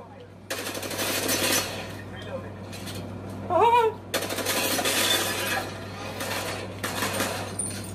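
Rapid bursts of automatic gunfire in a shooter video game, loud and close, repeated in long sustained volleys with short pauses, plus a brief whooshing effect, under a player talking.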